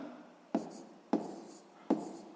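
Numbers are written in a notebook, three separate short taps of pen on paper, each followed by a brief scratchy stroke, evenly spaced and close in a quiet room.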